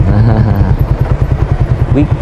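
A motorcycle idles close by with a fast, even putter of engine pulses throughout, rough and loud, on a busy weekend outing.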